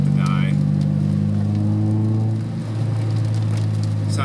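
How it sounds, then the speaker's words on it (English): A 2003 Honda Civic Si EP3 engine runs with a steady, deep droning hum, loud and close, while a voice talks over it. "this car sounds so good."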